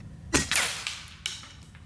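An FX Leopard bullpup air rifle fires a heavy pellet at a target: one sharp, loud crack, then a few fainter metallic ticks and knocks trailing off over the next second, with no voices.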